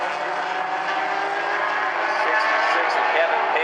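Mini stock race cars at South Sound Speedway roar past in a dense field, a continuous loud engine drone with a slight rise in pitch, while a commentator talks over the noise.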